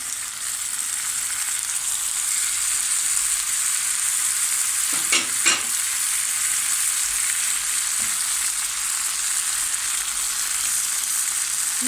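Broad beans fry in a pan for a regional Turkish bean sauté with eggs, making a continuous, even hiss. A couple of quick stirring scrapes stand out briefly near the middle, and no one speaks.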